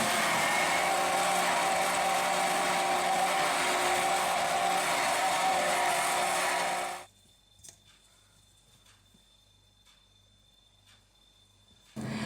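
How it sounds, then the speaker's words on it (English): A blender whirs spinach cake batter with sunflower oil and vanilla in a loud, steady roar for about seven seconds, then cuts off abruptly into near silence. "Blend everything together until smooth and set it aside."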